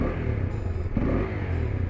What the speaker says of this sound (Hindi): पहले तो इसको माइक में इसका साउंड सुनो, ये है स्टॉक साइलेंसर का साउंड